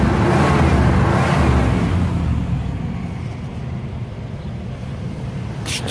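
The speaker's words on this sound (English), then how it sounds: "There's the sound of the motor." A 1990 Cadillac Brougham engine running with a steady broadband rumble and a slight whoosh of wind over the microphone, fading a little toward the end.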